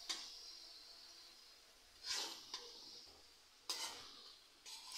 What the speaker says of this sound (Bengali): দেখুন আমি কিভাবে লবণ হলুদের সাথে সবজিগুলো মিশিয়ে নিচ্ছি।